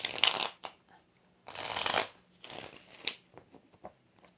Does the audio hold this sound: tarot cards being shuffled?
yes